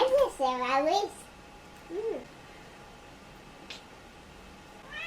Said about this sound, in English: I have now a little baby and a cat just coming in right now.